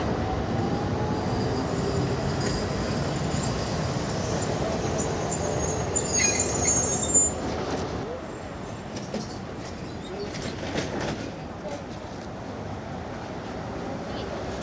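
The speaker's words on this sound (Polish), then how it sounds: "Fajne te tramwaje tutaj." Trams rumble past steadily in Milan with low, continuous rolling noise and some higher squeals, fading somewhat toward the end.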